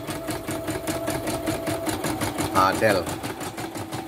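A YOKO portable multifunction embroidery machine running under repair at a service centre, its fast, even stitching rhythm chattering throughout while a person talks over it.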